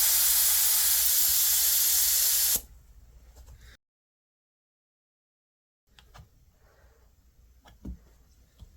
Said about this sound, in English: you can take a little bit of air out by pushing on the valve stem here